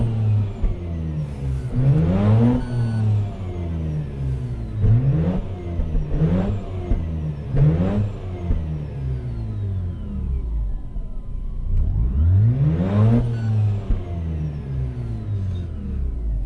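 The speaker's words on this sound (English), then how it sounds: "So let's try to rev it some." A 2004 Mazda RX8 with a B13 rotary engine revs repeatedly, several sharp climbs and falls in pitch, loud and close with no talk.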